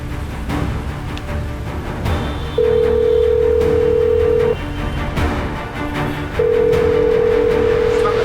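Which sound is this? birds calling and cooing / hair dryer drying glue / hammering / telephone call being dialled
telephone call being dialled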